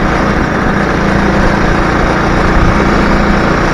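Small motor on a bicycle build running steadily, a loud, close, continuous buzzing drone with no break.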